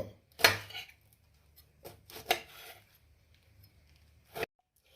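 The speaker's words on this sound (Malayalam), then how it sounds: "ഇനി ഒരു നാല് പച്ചമുളകുണ്ട് അതും കൂടെ ഒന്ന് ചെറുതായിട്ട് കട്ട് ചെയ്യണം" A knife cuts four green chillies finely on a board, giving a few sparse, sharp close chops with long quiet gaps between them and no voices.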